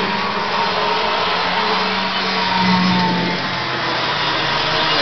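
Snowmobile engine running steadily at close range while the machine is taken out to fetch a Christmas tree, a continuous droning motor with a slight rise in pitch midway.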